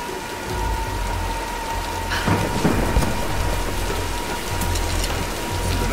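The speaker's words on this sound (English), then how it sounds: "Nah, let's wait out the storm." Heavy rain pours steadily in the 2013 Tomb Raider video game, with a rumbling roll of thunder rising midway through the thunderstorm, loud, close and continuous, without speech.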